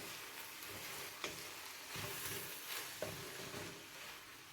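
Tuna fried rice frying in a pan over high heat, a steady hiss of sizzling oil with a few soft scrapes and taps of the spatula as the mixture is stirred, with no talking.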